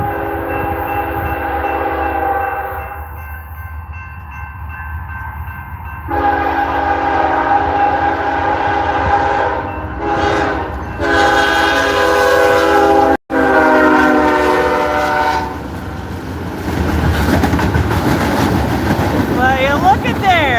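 A mixed freight train led by a CSX engine rolls past with repeated loud, sustained horn blasts, steady rumble and wheel noise continuing between them, and a voice talks briefly over it.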